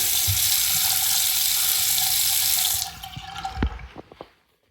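Water runs from a repaired kitchen faucet in a strong steady stream, then is shut off, leaving a few drips and soft clunks before quiet.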